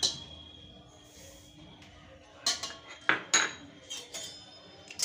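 Whole spices dry-roasting in a kadai over low heat, heard as a quiet hiss punctuated by several sharp metallic clinks and scrapes of a spoon against the pan, clustered in the second half.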